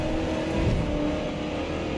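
Race car in Forza Motorsport accelerating hard, a steady loud engine roar holding high revs throughout with no talking.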